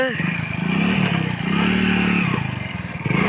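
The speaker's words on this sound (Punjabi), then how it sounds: "ਮੋਟਰਸਾਈਕਲ ਸਟਾਰਟ ਕਰ ਲੈ" A motorcycle engine runs and revs close by, its rough mid-pitched drone rising and falling while people talk loudly over it.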